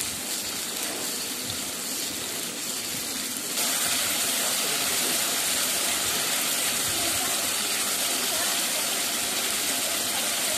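A pan of onions fries with a spice mix of dried red chilli, cumin, coriander and a little turmeric, giving a continuous hiss that grows louder and denser partway through and holds steady.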